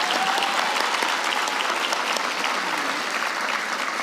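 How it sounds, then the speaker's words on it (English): A crowd at a high school graduation ceremony claps continuously, a dense steady round of applause from many hands, fairly loud throughout. "Let's give our twins and their parents a round of applause"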